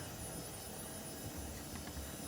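A vacuum cleaner running in a bedroom, a faint, steady whirring roar like a helicopter that holds evenly throughout.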